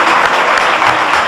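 Studio audience on a Pakistani television show breaks into loud, steady applause welcoming a guest, a dense wash of clapping that fills the whole moment without any voices over it.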